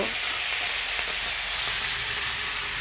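A fish head fries for muri ghonto with a dense, even hiss of hot oil that runs unbroken from start to finish, close and fairly loud.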